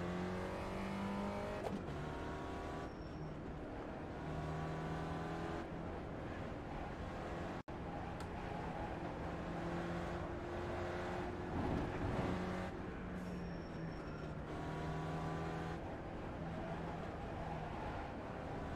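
An SRF race car runs an out lap at Lime Rock in a racing game, a steady loud engine drone with repeated rising shift sweeps and brief drops between gears, continuing throughout.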